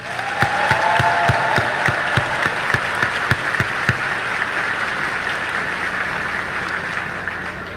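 An audience claps in a burst of applause, sharp individual claps at first settling into a dense, steady patter that gradually thins, with no voices over it.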